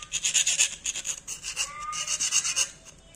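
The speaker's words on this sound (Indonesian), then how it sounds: "kalau kalian punya kikir seperti ini juga boleh" A hand file rasps along the edges of a workpiece to smooth them, in a series of loud, close, rhythmic strokes with short pauses between passes.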